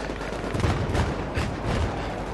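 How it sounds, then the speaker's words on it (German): Grenades going off in the Battlefield 3 shooter inside an enemy-held house, a steady rumbling wash of blasts and combat noise at moderate distance, with no talk over it. "Und die beboxen mich hier mit Granaten."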